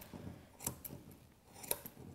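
Grooming scissors trim around a Labradoodle's feet with two sharp metallic snips about a second apart and a few softer clicks and rustles between them, close and quiet.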